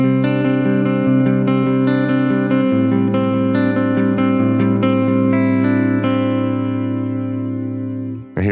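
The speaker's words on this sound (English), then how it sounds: "So here's a clean tone." Clean electric guitar chords ring out through a Lekato WS 70 wireless system, sustained strummed notes changing every second or so and fading at the end before a brief thump.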